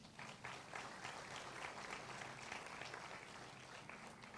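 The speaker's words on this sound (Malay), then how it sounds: "sila tepuk tangan untuk diri sendiri." Students at a polytechnic orientation session clap for themselves, a steady dense patter of many hands that holds at an even level, with no talk over it.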